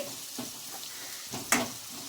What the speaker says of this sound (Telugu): బాగా మనం పచ్చివాసన పోయేంత వరకు వేయించుకోవాలండి